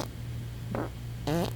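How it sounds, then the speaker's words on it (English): A sloth farting, two short separate bursts, the second louder and more tonal with a wobbling pitch, close up over a faint steady hum. "Let's see the sloth fart."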